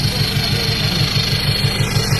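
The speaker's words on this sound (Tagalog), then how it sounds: "ayan na yung cold start niya. Grabe, sarap ng sipol ng tambutso." A Toyota Hilux Vigo 1KD diesel engine idles loudly close by after a cold start, with a steady rhythmic chug and a faint high exhaust whistle riding above the rumble.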